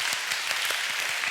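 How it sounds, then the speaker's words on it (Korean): A church congregation at a Friday prayer service claps together in a brief, dense burst of applause that fills the room. "우리 격려하며 우리 박수를 하도록 하겠습니다"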